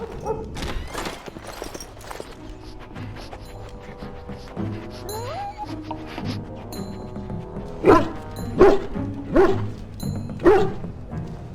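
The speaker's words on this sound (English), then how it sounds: "I'll calm down once that beast is out of my larder. Well then, let's get our dog out of there." A dog trapped in a larder in the video game Dragon Age: Origins barks and yips repeatedly over game music, the barks growing louder and more insistent in a rapid burst toward the end.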